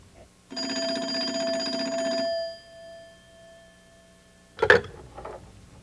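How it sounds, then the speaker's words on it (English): A telephone bell rings once in a long electronic trill lasting nearly two seconds, then falls quiet before a sharp clatter, likely the receiver being picked up, in a quiet room. "It's ringing."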